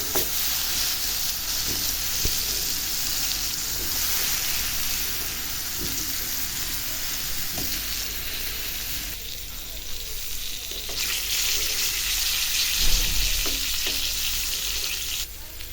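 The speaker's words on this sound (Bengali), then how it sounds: "এখন বেগুনটা ভেজে নেব।" Eggplant fries in a little oil in a pan, making a continuous crackling sizzle with intermittent spoon taps and stirring, the hiss swelling louder partway through.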